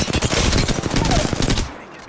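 Heavy close automatic gunfire rattles continuously in an Apex Legends match on Kings Canyon, loud and dense for nearly two seconds before cutting off abruptly.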